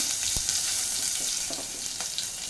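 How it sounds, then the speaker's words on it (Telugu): Cumin, turmeric, asafoetida and curry leaves sizzle in hot tempering for radish sambar, a bright continuous hiss with a few faint clicks and taps in the pan. "అలాగే జీలకర్ర కూడా వేస్తున్నాను పసుపు వేసేసుకున్నాను కొద్దిగా ఇంగు కూడా వేస్తున్నాను అలాగే కరివేపాకు వేస్తున్నాను"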